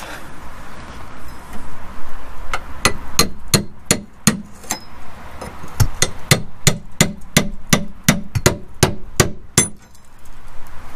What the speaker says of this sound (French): il faut passer le burin entre les deux tôles pour pouvoir les soulever